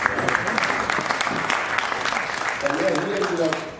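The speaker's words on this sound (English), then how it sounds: "Yeah, round of applause." An audience at a Q&A session at a rock music fantasy camp breaks into a steady round of clapping, close and full, lasting several seconds with a voice briefly heard over it.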